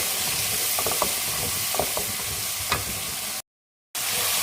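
Spice paste for a royal-style prawn dish frying in oil, a continuous close sizzle with a few scraping stirs and clinks of the utensil against the pan, briefly cut off near the end.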